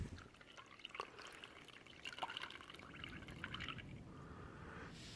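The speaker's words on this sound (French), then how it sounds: "Donc je verse le mélange dans l'essuie-tout." A pepper and water mixture poured through a paper towel filter, a faint, soft trickle with scattered light drips, steady and close.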